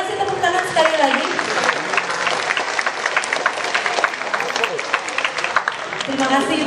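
Applause from an audience at an official launch event in Bangka Belitung, with continuous dense clapping and crowd noise under and around a speaking voice throughout.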